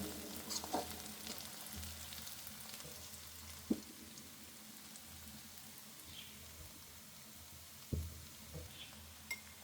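Onions fry quietly in a pan toward light brown, a faint steady sizzle with a few soft stirring knocks scattered through it.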